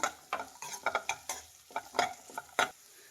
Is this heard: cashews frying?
yes